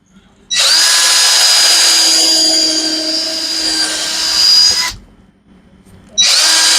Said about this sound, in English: So I just need to drill 2 holes.